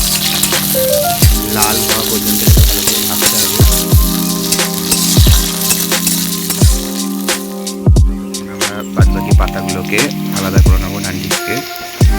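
Chopped garlic and chili fry in hot oil with a steady crackling sizzle, broken by repeated sharp pops and spatters and occasional stirring knocks, heard up close under faint speech.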